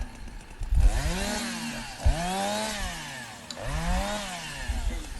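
A chainsaw runs close by near a pair of calm oxen, its engine revving up and down in repeated swells, loud and raspy with no talk over it.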